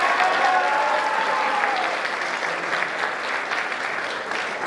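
An audience applauds a school dance team after a K-pop performance at a boys basketball awards ceremony, with loud sustained clapping and scattered cheers that taper slightly, a raised voice briefly audible at the start.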